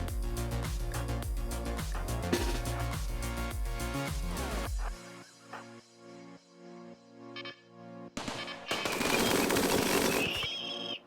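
Gunfire in the RimWorld video game, rapid repeated shots with game music and effects, fading to a sparse tonal passage before a loud noisy burst near the end.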